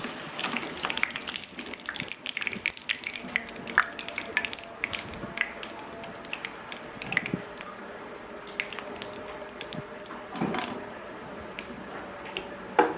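Potatoes fry in hot oil, giving steady soft sizzling and bubbling with occasional squishy stirring and scraping noises close by, and no talking.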